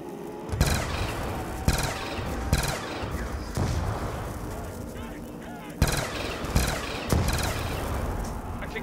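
CM81 gun firing in Black Ops II Zombies, loud sharp shots in uneven bursts and single blasts with mechanical clatter between them, with speech mixed in.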